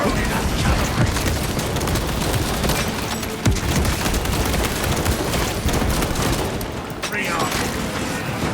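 A frag grenade blast in the Warhammer 40k Space Marine 2 game arrives amid continuous loud battle noise, with dense gunfire and booming rolling on throughout.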